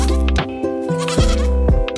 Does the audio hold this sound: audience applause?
no